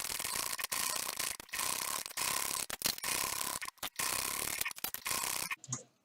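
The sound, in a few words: sewing machine topstitching a strap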